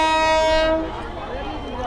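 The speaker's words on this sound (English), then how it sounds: "There's one train." A passing train sounds its horn near Borra station in the Araku Valley, a loud sustained tonal blast that cuts off, leaving a fading rumble of the train moving away.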